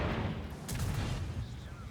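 A tank cannon fires in a video game, a PTZ-78 tank battle, giving a deep booming blast amid a rumbling low battle din, heard fairly faintly and partly under talk.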